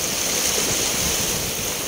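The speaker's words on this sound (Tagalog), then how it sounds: "Malakas ang alon." Strong sea waves surging and crashing at a beach, a dense, loud, continuous wash of surf with wind buffeting the microphone and no voices.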